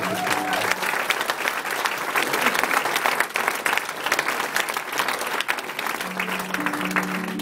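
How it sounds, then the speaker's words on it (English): Live concert audience at the Northcote Social Club in Melbourne applauding steadily, a dense, loud wash of clapping sustained throughout, with a few faint tonal notes from the stage underneath. "I want to give a warm round of applause for Gosling, the supporter."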